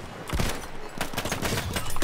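Shotgun fire in Battlefield 1: a dense run of loud, overlapping gunshot blasts with other battlefield gunfire mixed in, close and continuous across the moment.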